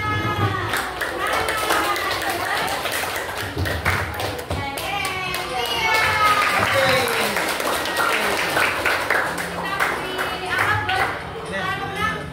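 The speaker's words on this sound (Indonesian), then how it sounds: "Nisa, tepuk tangan buat Nisa." Children in a classroom clap and tap for a classmate, a rapid patter of hand claps and thumps with young voices talking over it throughout.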